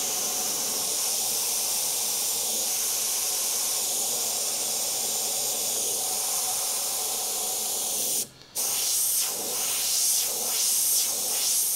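An airbrush sprays paint on compressed air in a loud, steady hiss that runs almost unbroken, cutting out briefly once before resuming with some sputtering variation.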